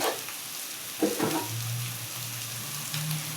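Bitter gourd slices frying in a pan with a little turmeric, a steady broadband sizzle with a few stirring scrapes near the start, alone with no talk.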